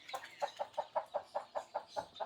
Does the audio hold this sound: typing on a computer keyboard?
no